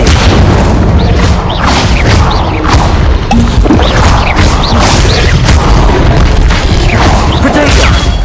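Incendio fire spells are cast repeatedly in Hogwarts Legacy, giving loud, dense bursts of booming, crashing impacts that follow one another without a break, with a voice mixed in under the game effects.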